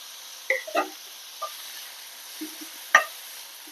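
Bitter gourd pieces fry in hot oil, giving a steady soft sizzle with a few sharp spatula clinks and scrapes against the pan.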